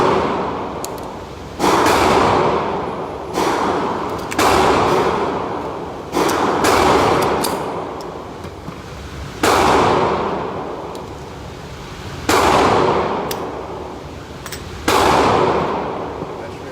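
Gunshots ring out at an outdoor shooting range, eleven or so sharp loud cracks spaced a second to several seconds apart, each trailing off in a long echoing decay.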